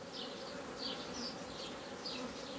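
Honey bees at a small hive colony make a continuous, dense buzzing hum, with individual bees flying close past now and then, loud and steady throughout with no voices.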